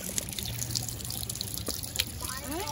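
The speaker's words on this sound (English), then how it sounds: "You found water." Water trickling along a hiking trail, a soft, continuous burble with small splashy drips, fairly faint and close, while a voice rises briefly near the end.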